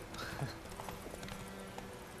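Horse hooves clip-clop steadily on a road while riding through streets in The Witcher 3, with a brief whinny near the start and a constant low game ambience underneath.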